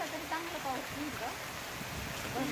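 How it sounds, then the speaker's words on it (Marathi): Heavy monsoon rain pours down on a village in a dense, unbroken roar, with people talking faintly beneath the downpour. "हा पाऊस वाढलाय आता"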